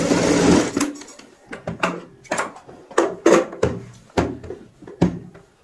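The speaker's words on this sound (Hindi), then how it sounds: "यहाँ पे कच्ची सिलाई लगाएंगे" A sewing machine runs a loose basting seam on a cushion cover in repeated short bursts of rapid stitching, close and clattery, with brief pauses between runs and no talk.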